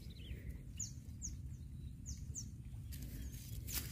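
Prinia chicks at a nest beside a road give thin high chirps in quick scattered bursts, faint over a steady low rumble of roadside noise.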